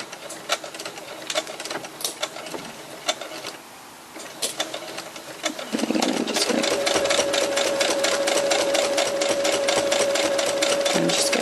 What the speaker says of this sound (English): until I've gone over them with the sewing machine